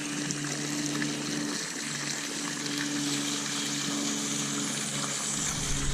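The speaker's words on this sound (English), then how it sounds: "See, as I loosen it, it's draining faster." Water drains from an above-ground pool filter housing as its fitting is loosened, a steady close gurgling trickle and gush running continuously without speech.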